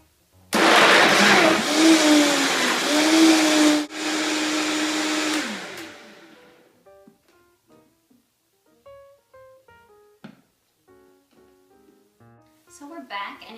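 A powerful blender roars loudly for several seconds, its pitch shifting as it churns, then winds down and stops, leaving a few small clatters.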